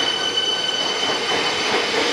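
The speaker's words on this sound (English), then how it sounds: "Sandra Cam train coming on platform 2" A train rolling into platform 2 at Richmond station with high-pitched wheel squeal and rumbling carriages, loud and close, no talking.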